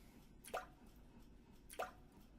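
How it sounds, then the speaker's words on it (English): Two water drops fall in a video game, each a short bright plip about a second apart against a faint, hushed background. "The sound of falling drops."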